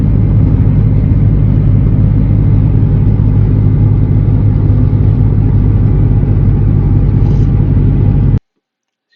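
An LS-swapped Dodge Charger being driven gives a loud, steady engine drone and rumble close up, continuous until it cuts off abruptly near the end.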